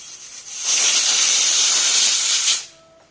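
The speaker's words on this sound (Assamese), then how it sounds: "ঔটেঙাখিনি এটা হুইছেল মাৰিলে এনেকৈ" A pressure cooker on the stove, cooking elephant apple, lets out one long, loud steam whistle that hisses steadily for about two seconds, then cuts off abruptly, heard close by with no voices.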